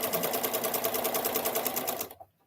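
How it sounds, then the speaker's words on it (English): A sewing machine stitches a quilt square for a veterans flag quilt, running in a fast, even mechanical rattle close to the mic, then stopping abruptly near the end. "I'm just going to do a little back stitch there"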